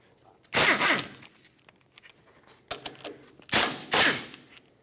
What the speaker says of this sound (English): Use a 13mm socket to remove the slider pin bolts that clamp the caliper onto the bracket.